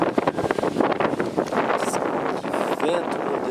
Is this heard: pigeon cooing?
no